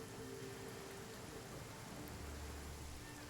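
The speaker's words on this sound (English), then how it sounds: "and it is now raining." Steady rain falling in the Genshin Impact game world, a dense even hiss of rainfall with a low rumbling undertone, constant and alone with no talk.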